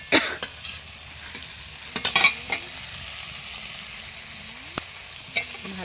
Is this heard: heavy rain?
no